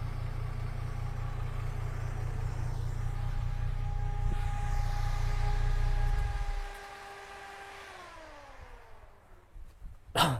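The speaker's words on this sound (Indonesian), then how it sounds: "ini adalah suara dari mesin V6 atau H20," A V6 H20 engine from a Suzuki XL7, swapped into a modified Suzuki Vitara, idles with a deep, steady rumble for several seconds, then the low throb drops away, leaving a quieter hum and a few faint knocks.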